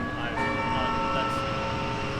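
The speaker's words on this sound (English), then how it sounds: "that's the gong of the end" A gong rings out at the close of an interview with a bright, sustained metallic shimmer whose tones linger and slowly fade under a faint background hum.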